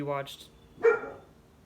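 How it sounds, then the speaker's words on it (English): A dog barks once or twice briefly at close range, a short sharp burst standing apart from someone talking before it. "sorry, my dog was barking"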